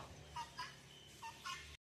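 Guinea fowl calling on a farm, a few short harsh cries in quick bursts, fairly faint and at a distance, with no one speaking.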